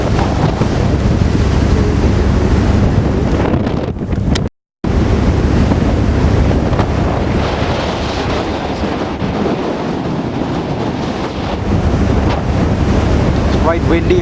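Strong wind roars and buffets the microphone continuously, with a brief dropout partway through; water and a moving boat are faintly audible underneath.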